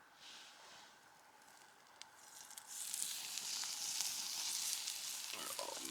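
Food frying in oil on a camp stove during a wild-camp overnighter near East Saltoun, a steady bright sizzle that grows louder and fuller halfway through, close by with no talk.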